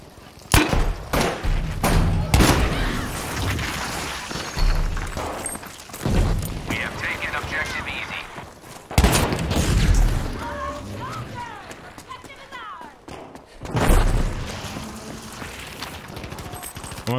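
Grenade blasts in the Battlefield V shooter game: several heavy thuds and booms in sequence amid gunfire and battlefield noise, with people talking over the action throughout.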